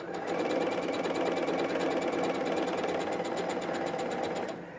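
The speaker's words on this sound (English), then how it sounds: "The bobbin winder's not winding all kinds of thread." A sewing machine's bobbin winder runs steadily, a fast even mechanical whir with rapid ticking, close and loud throughout before easing off at the very end.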